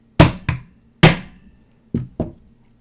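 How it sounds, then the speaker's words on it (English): A hammer tapping a tool to knock a spent primer out of a brass cartridge case: five sharp, close metallic knocks in two clusters, each ringing briefly before fading. "Tap it with a hammer."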